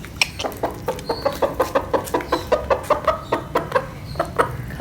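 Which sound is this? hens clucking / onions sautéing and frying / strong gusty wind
hens clucking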